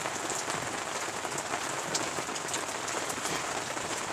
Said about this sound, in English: It was a rainy night, just like tonight.